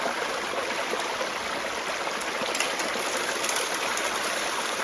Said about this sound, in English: at each one, that water's jumping and it's slapping down